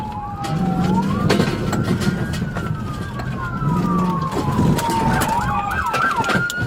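A wailing police car siren during a pursuit sweeps up and down continuously over steady traffic and engine rumble, loud and fairly close, with a brief yelp near the end.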